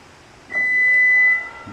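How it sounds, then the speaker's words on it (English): A Toyota RAV4 gives a single clear electronic beep, a steady high tone of nearly a second, loud and close against a quiet background. "You heard that double beep?"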